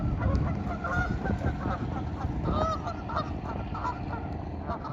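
Geese honk repeatedly, close and loud, their calls overlapping above steady outdoor background noise.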